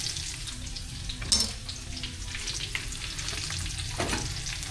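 Garlic and onion sauté in a pan for pakbet, a steady close sizzle with scraping stirs and a couple of louder clanks of the utensil, with no talking.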